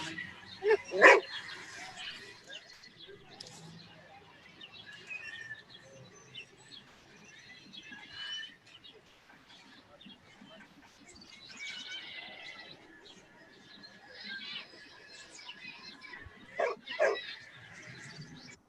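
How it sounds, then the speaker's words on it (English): Dog barking in a few sharp close yelps near the start and again near the end, with bird chirps and a voice speaking in between. "Look at the cute dog."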